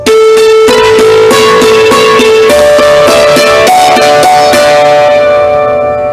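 A bright hammered dulcimer melody rings out in quick notes over a sustained left-hand drone, loud and close with shimmering decay.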